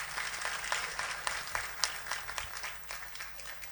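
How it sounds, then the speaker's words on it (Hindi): Applause at a devotional Thakur ji darshan gathering, a steady wash of many hands clapping at moderate distance, sustained throughout with a few sharper individual claps standing out. "एक बार जरा इस दृश्य को देख करके ताली सेवा कर दीजिए ठाकुर जी की"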